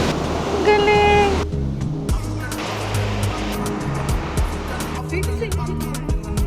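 Ocean surf rolls in steadily at Scarborough Beach in Perth, a loud, continuous wash of breaking waves, with voices talking over it near the start.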